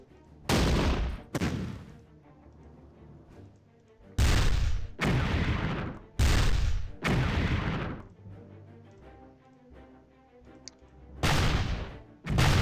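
Gunfire from units in the wartime strategy game Battle Academy 2, set on the Eastern Front in February 1943: a series of loud, separate booming shots and bursts, some spaced apart and some in quick pairs, with quiet gaps between.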